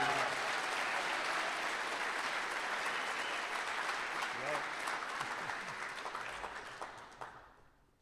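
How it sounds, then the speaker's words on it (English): Applause from the crowd at a sports awards ceremony honoring coaches, steady and full for several seconds before tapering off and fading out, with some voices mixed in. "How about one more broad round of applause for an outstanding group of 6 coaches up there?"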